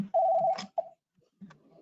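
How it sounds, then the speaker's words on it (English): A telephone rings during a city council business meeting: two short electronic ring tones close together, fairly clear and loud in a quiet room, followed by a brief low rustle. "we got a phone call"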